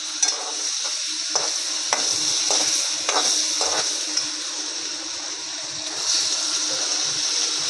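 Paneer fries with a steady loud sizzle in a pan while a spoon scrapes and stirs it now and then, the stirring giving soft irregular knocks over the continuous hiss; no one speaks.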